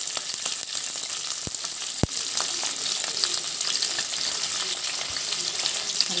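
Onion pieces frying in hot oil in a kadai, a steady bright sizzle throughout with a couple of sharp taps of a utensil against the pan.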